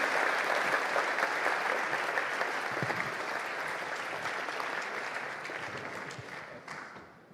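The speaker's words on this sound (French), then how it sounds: "Est-ce qu'on peut les applaudir?" A festive evening audience claps, dense sustained applause from a sizable crowd that fades gradually toward the end, with no voices over it.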